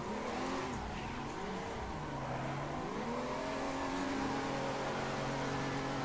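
A car engine in the Assetto Corsa sim drifting game at Tomodachi Kartland, revving steadily with rising and falling pitch as the car slides around the track, loud and continuous with no talk.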